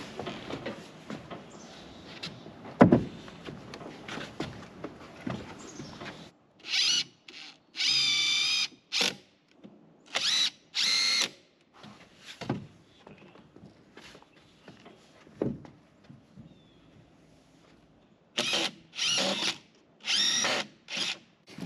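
A power drill drives screws into wood while skids are built for a solar kiln. The drill sounds in several separate whirring bursts of a second or two each, with quieter handling and shuffling noise in between.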